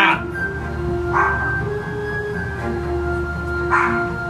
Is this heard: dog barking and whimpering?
yes